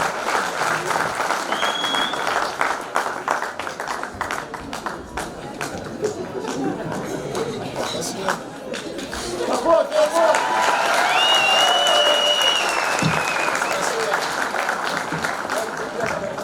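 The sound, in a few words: audience applauding at a university celebration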